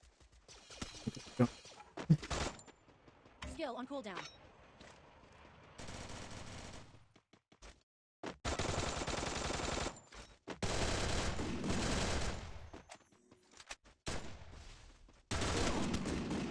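Rapid full-auto bursts of XM8 rifle fire in the battle-royale game Free Fire, loud and close, with several sustained streams of shots broken by short pauses and scattered single cracks.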